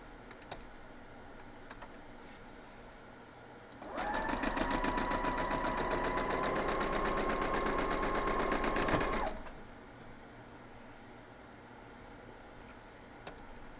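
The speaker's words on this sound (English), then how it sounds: "Well, we're going to go sew it." A sewing machine stitches a flying geese quilt block, running in one steady, fast burst of about five seconds. Quiet room tone comes before and after the burst.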